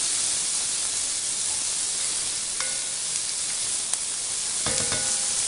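Onions sizzle in bacon fat in a pot for baked beans, a steady close hiss with a few faint clinks near the end.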